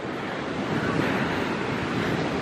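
Ocean waves break on the beach at Nags Head, North Carolina, a dense, continuous wash of surf with wind buffeting the microphone, loud and close, with no talking.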